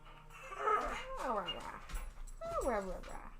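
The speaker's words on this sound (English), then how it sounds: "You are a clever pup." A dog in the game Elder Scrolls Online whimpers and yips in short rising and falling cries, close and fairly loud.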